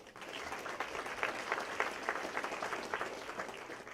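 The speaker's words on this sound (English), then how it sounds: "Give yourself a round of applause" A conservative Tea Party gathering in Ramona breaks into audience applause, a continuous crackling patter of many hands clapping, fairly faint and distant-sounding, with no speech over it.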